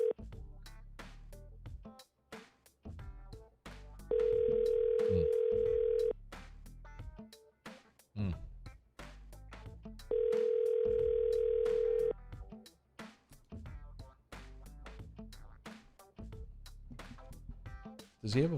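Phone ringback tones on an unanswered call, two long steady rings a few seconds apart, with people talking throughout.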